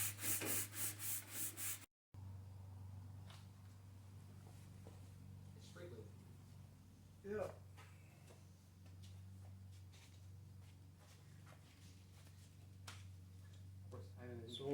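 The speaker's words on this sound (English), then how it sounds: "watch our sanding technique. We're block sanding long." A Fox-body Mustang body panel being block sanded by hand with 180-grit sticky-back longboard paper on an eight-inch board, giving soft rhythmic rubbing strokes under a low hum, with a short break near the start.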